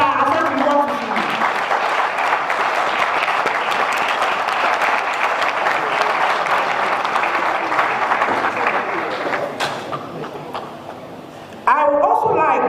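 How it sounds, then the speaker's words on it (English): A Ghanaian micro-credit association audience claps for Mr. Asante in a long, dense, steady burst that fills the room and fades toward the end, then a voice briefly comes in. "I want all members here to salute and clap for him."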